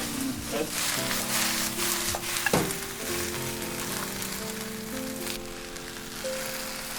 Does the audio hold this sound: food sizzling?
yes